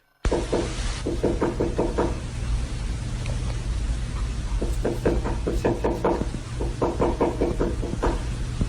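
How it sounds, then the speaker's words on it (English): Insistent knocking comes from inside the walls of a home: clusters of rapid, sharp raps repeat again and again over a steady hiss, near and fairly loud. "It sounds like someone is knocking insistently at the door, only there's no one there."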